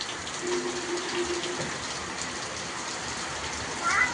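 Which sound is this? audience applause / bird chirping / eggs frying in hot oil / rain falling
rain falling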